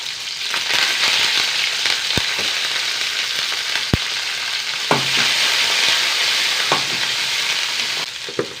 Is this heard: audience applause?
no